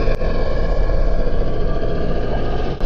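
A deep, loud rumbling roar of a giant sea creature, the Julia sound, fills the whole stretch, steady and growling with no voices.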